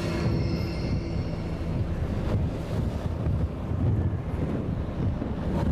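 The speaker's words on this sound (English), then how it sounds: "A little wind ain't bad, but this is horrible." Strong wind buffets the microphone on a boat out on open water, a continuous loud low roar with waves and surf beneath it and no speech.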